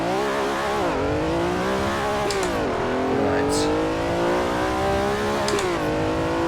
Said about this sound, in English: Listen to that engine noise.